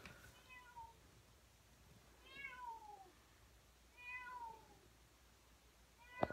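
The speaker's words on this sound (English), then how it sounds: "My cat is in the wall." Cat trapped inside a wall, meowing three or four times in faint, muffled calls spaced a couple of seconds apart over quiet background.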